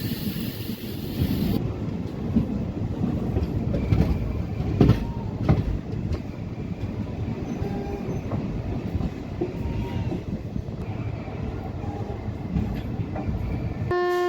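An express train rumbles past steadily at a railway station, wheels clattering and squealing on the rails, loud and close, with a brief horn-like tone near the end.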